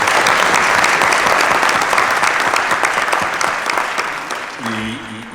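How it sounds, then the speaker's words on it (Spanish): A crowd at a film festival conference applauds loudly and steadily, the clapping thinning a little near the end as a voice starts to speak over it. "Vamos a dar un aplauso."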